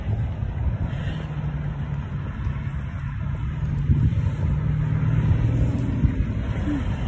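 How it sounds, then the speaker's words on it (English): Steady roar of cars passing by a park, a continuous low rumble of traffic that swells slightly midway, moderately loud and near, with no clear talking. "Y'all can probably hear the cars passing too."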